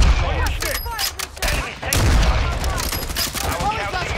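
Rapid gunfire in a Call of Duty Modern Warfare 2 match, dense volleys of shots cracking continuously and close over a busy battle din, with a few deeper booms mixed in.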